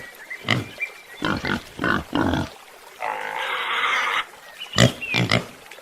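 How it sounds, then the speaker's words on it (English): Pig on a farm giving several loud grunts and oinks in short bursts, then a longer squealing snort, then more grunts, heard close and alone. "Pig."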